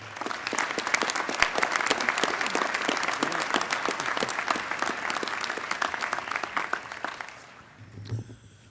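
Sustained applause from a commencement audience at St. Norbert College greeting speaker David Maraniss: a dense, steady wash of clapping from a large crowd that fades out near the end, with a brief low thump as it dies away.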